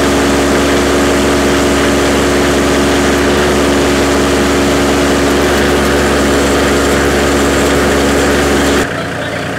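A Massey Ferguson 1825E compact tractor engine runs loud and steady at high revs while its loader strains to lift about 1,440 pounds, then cuts off abruptly near the end.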